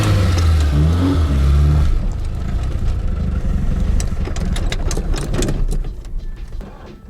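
A VAZ Zhiguli car engine runs after starting. A loud, steady rumble fills the first two seconds, then a rougher idle continues with scattered clatter and knocks, and it fades slightly near the end.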